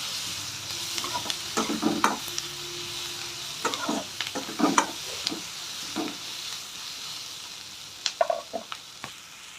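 Onions frying in a pan while being stirred, with scraping stir strokes and crackling sizzle arriving in irregular bursts over a steady low hiss, fairly close and unaccompanied by talk.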